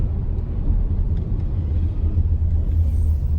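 Heavy road traffic rolls past in a continuous low rumble, one car after another merging into a steady, loud drone with no distinct pauses.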